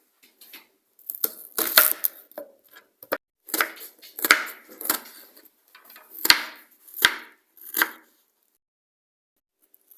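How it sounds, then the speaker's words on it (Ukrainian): A knife chops an onion on a cutting board in quick bursts, then slower separate strokes, crisp and close with no talking. "В першу чергу ми ріжемо цибульку."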